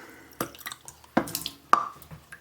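Vinegar and water being stirred together in a container for red onion fridge pickles, giving a few separate soft drips and clinks spread across a short moment, close and fairly quiet.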